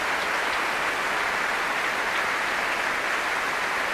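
Concert hall audience at the Proms giving sustained, dense applause after a choral performance of Elgar's The Dream of Gerontius, a loud even roar of clapping with no talk.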